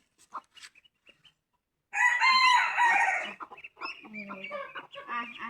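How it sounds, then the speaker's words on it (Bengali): Poultry on a farmyard with hens and chicks: a few soft clucks first, then a loud close rooster crow, followed by more clucking and calling, with faint voices in the background. "বাচ্চা নিয়ে তিনটা মুরগি আর কি পাড়াপাড়ি করে"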